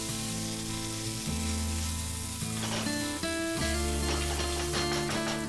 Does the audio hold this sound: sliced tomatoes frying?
yes